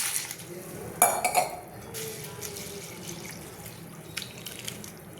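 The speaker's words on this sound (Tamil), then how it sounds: "இந்த மாதிரி சேர்த்துட்டு நல்லா தண்ணியை ஊற்றிட்டு நல்லா ரெண்டுலேருந்து மூணு டைம் நல்லா கழுவிக்கலாம்" Water splashes and sloshes in a bowl as something is rinsed by hand, with faint clinks of the container and running water nearby.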